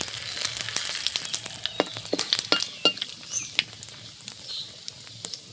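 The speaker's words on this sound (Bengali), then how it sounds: "ফোড়নে দিয়ে দেবো জিরে, দুটো শুকনো লঙ্কা, দুটো তেজপাতা।" Cumin seeds, two dried red chillies and two bay leaves sizzle and crackle in hot oil for a Bengali rohu fish curry tempering, with a steady close fry broken by sharp irregular pops.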